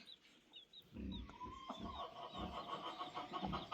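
Mother hens cluck softly and continually close by, with high peeping from their chicks woven through, quiet farmyard sounds in short irregular bursts.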